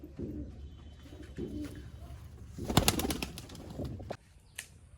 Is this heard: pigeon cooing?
yes